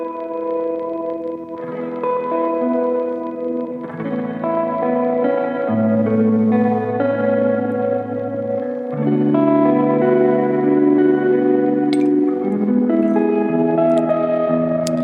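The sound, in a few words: glitchy reverb pedal textures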